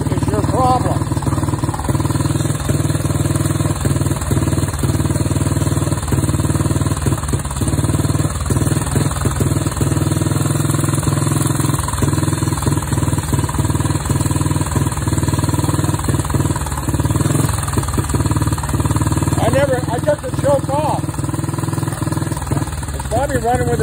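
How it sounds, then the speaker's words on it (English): A kick-started motorcycle engine runs loud and close with its choke off, a rough, uneven idle with irregular stumbles throughout, while a person talks now and then over it. "Running with a choke off."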